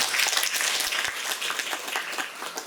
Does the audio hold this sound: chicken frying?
no